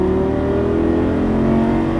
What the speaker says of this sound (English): squeeze the power to full throttle.